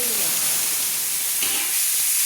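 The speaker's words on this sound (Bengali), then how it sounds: "ওই তেলে আলু ভাজা তেলে আমি ফুলকপিগুলো দিয়ে দিলাম" Cauliflower florets, parboiled and drained, frying in hot oil left from frying potatoes, giving a steady close hiss and sizzle throughout with no voices.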